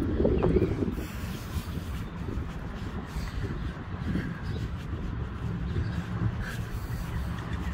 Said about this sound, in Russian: Ветер, конечно,